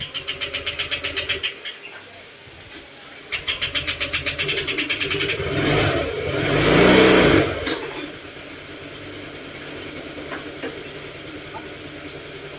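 A Honda Click 125 scooter engine cranks in rapid pulses, stalls briefly, cranks again, then catches and revs up before settling into a steady idle.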